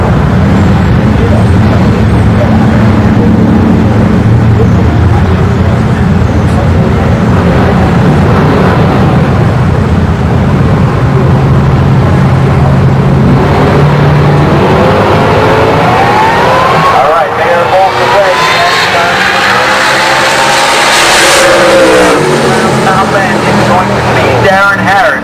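Drag racing cars, including a 1967 Camaro, roar with loud, continuous engine noise that rises toward the end, heard under a commentator's voice over a crowded track.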